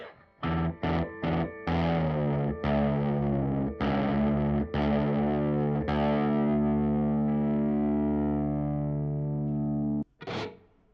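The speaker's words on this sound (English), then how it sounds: "I'm going to put on a bit of a higher gain sound. Do a bit of chugging, maybe." A distorted high-gain Gibson Explorer electric guitar in drop D plays heavy, low palm-muted chugs, first in short choppy bursts, then sustained ringing chords.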